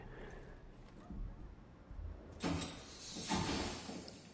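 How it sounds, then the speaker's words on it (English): In Rainbow Six Siege, the character Azami puts down her webs: two sharp hissing bursts, the first louder, over a low background murmur. "So that noise you just heard was Azami, basically putting down her webs."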